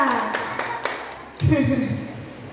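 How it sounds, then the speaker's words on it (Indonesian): Children at a Sunday catechism session in a parish station give a few quick claps for a classmate, a short run of distinct hand claps close by, then a voice begins speaking. "Tepuk tangan untuk Arga."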